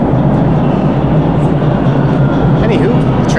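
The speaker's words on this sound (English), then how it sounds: "Anywho, the train's rolling in." A Toronto Line 2 subway train rolls into the station with a loud, steady low rumble and rail roar filling the platform, with faint screeches near the end.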